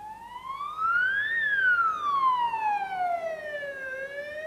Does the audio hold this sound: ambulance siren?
yes